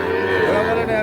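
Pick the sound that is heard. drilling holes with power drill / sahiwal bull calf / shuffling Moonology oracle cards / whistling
sahiwal bull calf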